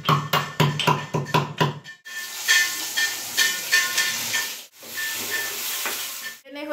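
Fish curry with potato, cauliflower and koi fish cooking at a Kolkata market stall, hissing and sizzling in the pan with rapid knocking and stirring clatter at first, then steady steam hiss broken by brief pauses.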